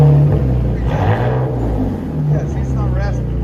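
A 2005 BMW 325i with a 2.5L inline-six on straight-pipe exhaust rumbles loudly and steadily, a deep throaty drone swelling slightly as it revs, with people talking over it throughout.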